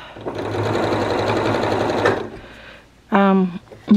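A sewing machine stitches fabric held with long pins, running in a close, fast whirring burst for about two seconds, then stopping before a short voice sound briefly breaks in.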